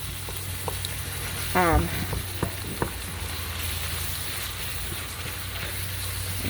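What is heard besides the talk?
meat frying in a pan for vegetable beef soup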